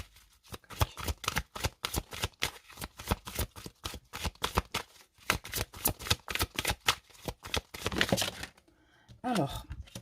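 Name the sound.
tarot or oracle cards being shuffled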